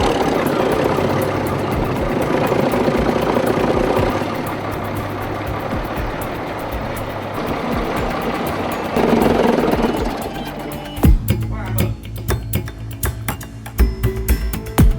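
A restored 1955 locomotive engine runs at a steady, heavy, low idle that swells briefly, then gives way to sharp, irregular knocks and thumps over the last few seconds.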